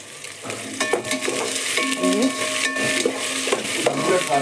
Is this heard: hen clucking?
no